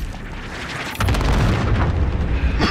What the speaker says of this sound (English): Airstrike. Yeah, airstrike in their position.